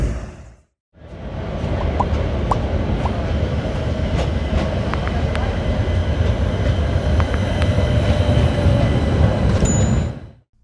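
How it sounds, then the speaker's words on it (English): A loud, continuous tram ride in Milan, Italy, with steady rumble, rhythmic wheel clacks and occasional metallic squeals, starting after a brief pause. "I'm gonna take the tram number 14 to get there."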